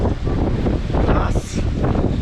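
Gusty wind buffets the microphone in uneven bursts on the climb to Chavand Fort in fine rain, a loud low rumble with a brief hissing surge midway.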